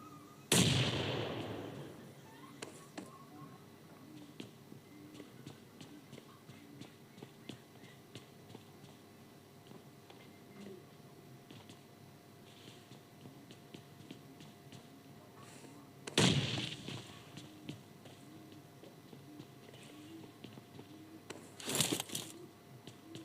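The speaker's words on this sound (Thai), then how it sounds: "ปาระเบิดมั่วเลย" Three sharp booming grenade blasts in PUBG Mobile, one at the start and two more near the end, with quiet rustling background in between.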